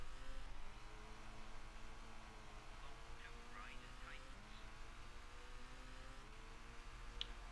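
Rally driving video game car engine droning and revving steadily at low pitch, loud and continuous, with faint higher whines and a brief sharp click near the end.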